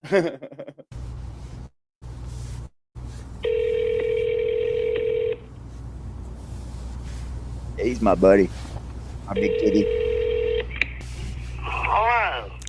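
Telephone keypad tones sound in two bursts of steady dialing beeps, loud and close, as a call is placed from a phone, with someone talking and brief laughter between them.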